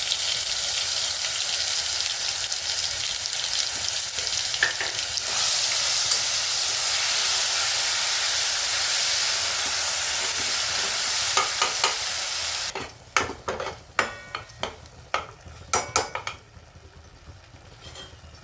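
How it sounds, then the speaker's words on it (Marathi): Mustard seeds and ground masala sizzle loudly in hot oil for dodka (ridge gourd) bhaji, a steady hiss that then gives way to sharp crackling pops and stirring, with no talking. "तेल गरम झालं आपण मोहरी टाकून घेऊ मोहरी टाकली की आपल्याला हा मसाला वाटलेला टाकायचा"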